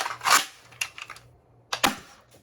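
A 3D-printed Nerf Breacher shotgun firing Mega XL shells indoors: two sharp plastic snaps, each followed by lighter mechanical clicks and rattles, in an otherwise quiet room.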